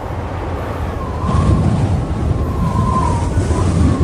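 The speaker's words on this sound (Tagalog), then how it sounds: "Bah, lumakas yung hangin." Steady roaring wind gusts across the microphone, broadband and continuous, growing louder about a second in and staying strong to the end.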